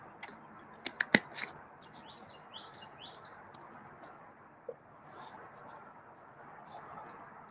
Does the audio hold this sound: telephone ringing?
no